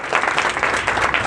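A seated audience at a direct-selling gathering bursts into loud, dense applause, continuous clapping from many hands filling the short moment without voices.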